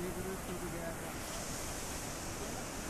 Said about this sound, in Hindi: यहाँ पर छोटा सा वाटरफॉल है, वाटरफॉल के वजह से यहाँ पर ब्रिज बनाया हुआ है